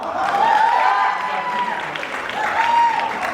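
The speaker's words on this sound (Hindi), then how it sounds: "तो अरे इतनी ठंडी तालियां क्यों? जोर ताली बजाओ।" Applause from a TV studio audience rises and falls, steady clapping that fills the space, with some voices mixed in beneath it.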